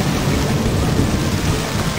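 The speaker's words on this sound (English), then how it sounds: "apparently lightning" Steady heavy rain with a deep rumble of thunder during a lightning storm in Duke Nukem 3D, a loud continuous wash of noise with no talk.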